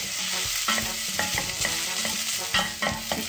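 Chilies fry in oil in a pan for a chickpea curry, crackling and sizzling steadily while a utensil scrapes and stirs in repeated irregular strokes, close and alone without talk.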